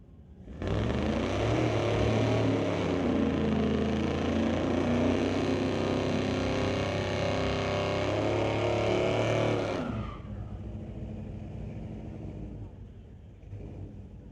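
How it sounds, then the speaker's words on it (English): A pair of Chevy pickup trucks roaring at a drag strip in one loud, sustained engine blast lasting about nine seconds, then dropping to a fading rumble. A voice talks faintly through it. "The pair of Chevy pickups ready to go back at it."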